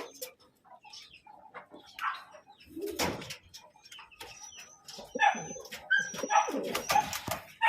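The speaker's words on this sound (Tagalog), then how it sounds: "Ito yung pang-4 nating ibon mga boss." Racing pigeons coo and flutter in a loft during training, soft coos and wing rustles scattered among clucking chicken-like calls and a distant dog, moderately near and faint.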